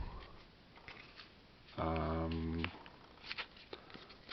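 Enemy cards from the Dead Cells board game shuffled in one quick burst of riffling lasting under a second, followed by a few faint taps and handling sounds at the table.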